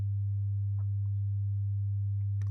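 A steady synthesized 100 Hz sine tone hums continuously and evenly, a low, plain, unchanging drone with faint background ticks and no talk.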